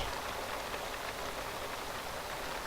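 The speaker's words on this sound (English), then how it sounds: "It's hailing." Hail falling in a video game: a steady, dense hiss of pattering ice with no letup and no voices, even in level from start to finish.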